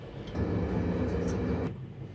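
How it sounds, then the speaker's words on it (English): A low, steady rumble of a train rolling past, heavy and continuous for a couple of seconds before easing off, near Jasper, Alberta, heard from aboard The Canadian passenger train. "You see the train going past?"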